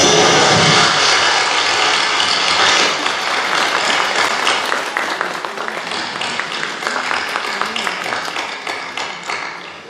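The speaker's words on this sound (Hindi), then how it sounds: "तालियां जरूर बजाना" Audience of teachers at a school programme breaks into loud, close applause that starts at full strength, then thins into scattered individual claps that gradually taper toward the end.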